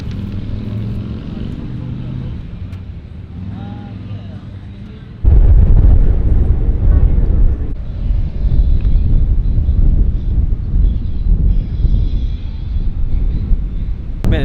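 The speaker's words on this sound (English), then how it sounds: "Man, it's getting pretty windy." Strong gusty wind buffets the microphone at a crowded waterside car park, a steady low rumble that jumps sharply louder partway through and stays rough and loud to the end.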